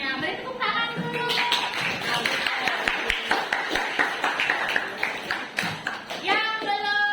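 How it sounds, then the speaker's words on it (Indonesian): An audience in a university assessment session claps hands, giving a burst of dense, uneven clapping that swells and fades, with voices mixed in. "Beri tepuk tangan dulu."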